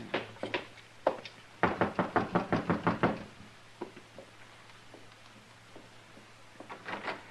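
Knocking on a door in a western radio drama: a few scattered raps, then a fast run of about eight firm knocks, followed by fainter taps and stray sounds, with a low steady hum underneath.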